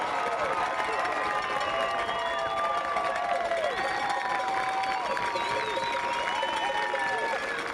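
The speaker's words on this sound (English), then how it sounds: "And listen to this crowd." A high school football crowd in the stands at a night game between MCC and Harbor Beach, a distant, steady roar of cheering voices and scattered shouts sustained without break.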